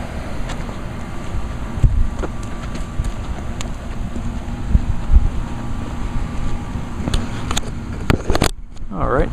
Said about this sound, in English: mower basically on mowing this strip right here